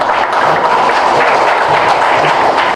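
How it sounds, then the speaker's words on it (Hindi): A hall full of people at a Wildlife Week 2021 ceremony in the Andaman and Nicobar Islands breaks into loud, sustained applause, an even roar of clapping that holds strong throughout before stopping abruptly. "उपस्थित सभी से एक बार जोरदार तालियों की गड़गड़ाहट के लिए हम निवेदन करते हैं।"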